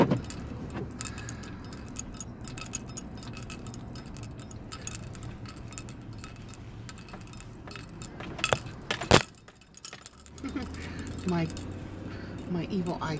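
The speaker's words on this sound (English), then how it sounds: "My evil eye charm makes a lot of noise up here." An evil eye charm hanging inside a moving car jangles and clinks in repeated small bursts over low road rumble, with one sharper knock near the end.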